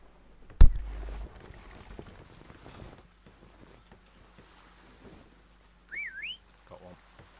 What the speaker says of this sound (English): I'll whistle one over